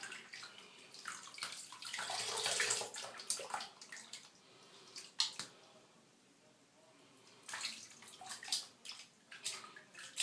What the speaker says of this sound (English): I'm gonna dip it one more time to make sure I got all the conditioner out.